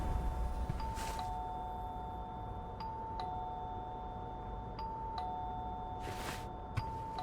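A doorbell in the video game We Happy Few rings with repeated ding-dong chimes, two clear presses several seconds apart over a steady background drone, fairly loud and with no voices.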